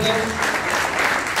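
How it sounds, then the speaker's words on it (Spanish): Crowd applause at a church or religious gathering, a dense burst of clapping filling the short moment, loud and close. "un fuerte aplauso para ellos"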